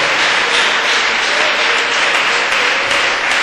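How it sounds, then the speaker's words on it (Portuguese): Applause from a church congregation during a Portuguese-language worship service, a dense, steady wash of many hands clapping at once, loud and continuous with no voices over it. "Pode dar uma salva de palmas para Jesus, sei lá, pode dar."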